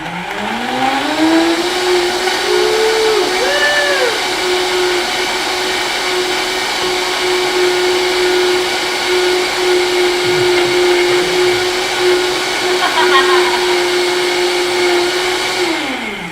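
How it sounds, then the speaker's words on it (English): A vacuum blender whirs loudly and steadily in a home kitchen, its motor pitch sweeping up at the start, then holding an even drone for over a dozen seconds before winding down at the end. "But now that it's done, we're going to blend."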